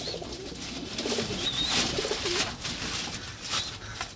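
Pigeons in a loft give soft, low repeated coos over a steady background murmur with some rustling, fairly close and without talk.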